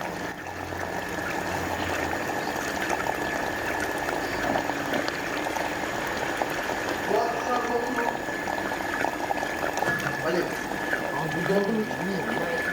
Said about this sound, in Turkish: Cihazı çalıştırdık. Petek temizliği başladı.